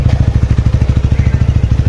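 A motorcycle engine idles close by with a loud, steady, fast thumping pulse and a slight rattle.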